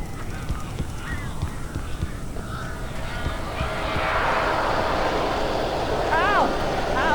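Strange birds calling in the Alan Wake video game, honking and squawking cries rising over a dark ambient background, with heavier flapping and calls swelling louder in the second half.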